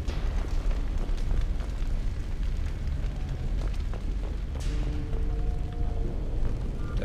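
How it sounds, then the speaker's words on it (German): Explosions in the video game Mass Effect 2: a continuous low rumble with scattered bursts and booms over several seconds, fairly steady and loud, with a sharp crack partway through. "Alles explodiert hier"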